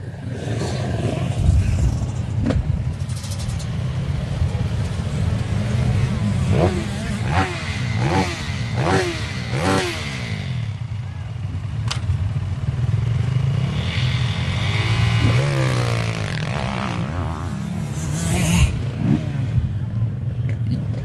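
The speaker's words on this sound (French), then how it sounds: "Allez, il a mis les gaz. Et il est parti pour sa première spéciale." A rally motorcycle at a special stage start on Mont Lozère revs hard and accelerates away, the engine climbing through several quick rising pitches before fading, with people talking over it throughout.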